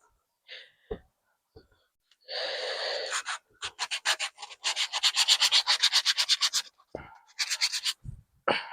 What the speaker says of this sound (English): the bottom of this right here, I'm going to sand that as well